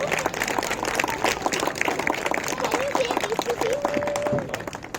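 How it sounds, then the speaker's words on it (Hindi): Audience applause for the actors at the end of a Hindi stage play, steady mid-distance clapping from a crowd, with a voice speaking over it. "सभी कलाकारों के लिए जोरदार तालियां तो बनती हैं दोस्तों"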